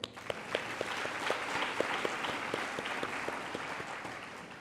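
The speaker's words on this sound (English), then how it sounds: "Let's give him another round of applause." Audience clapping at an awards ceremony, a steady crowd of hands with a few sharp, distinct claps standing out in a fairly regular rhythm.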